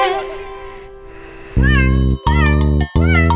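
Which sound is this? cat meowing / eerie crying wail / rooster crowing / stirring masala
cat meowing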